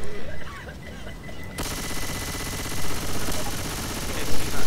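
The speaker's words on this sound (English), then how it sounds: "Is that a submachine gun?" Rapid submachine gun fire in Left 4 Dead 2, a dense continuous burst that kicks in sharply after a quieter opening and keeps rattling steadily to the end, with a few louder surges.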